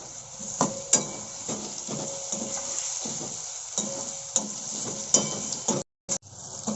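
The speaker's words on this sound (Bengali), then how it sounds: "অল্প পরিমাণ নুন দিয়ে অল্প আঁচে পেঁয়াজ আর টমেটোটা 2 মিনিট ভালো করে ভেজে নেব।" Onion and tomato fry gently in a pan over low heat, a steady soft sizzle running throughout with occasional clinks of a spatula against the pan, near and alone.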